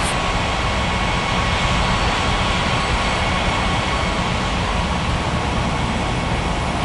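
An Air Portugal jet airliner taxis toward runway 35 at a Paradise Island airport in an air traffic control simulation, giving off a steady, loud, unbroken engine roar that holds even throughout.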